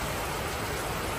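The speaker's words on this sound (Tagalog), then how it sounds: "Lakas ng ulan dito Makalingap po." Heavy rain pouring down in Makalingap, a loud, unbroken broadband hiss with no breaks and no voices.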